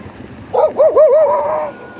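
A dog gives a short run of whining, yelping barks up close, several quick wavering calls over about a second, heard near a UFO watchtower roadside stop.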